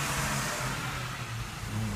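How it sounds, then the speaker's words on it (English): City traffic rolling past a parked camper van, a continuous close engine rumble with a car accelerating by, muffled and steady throughout. "There's the traffic going past all the time."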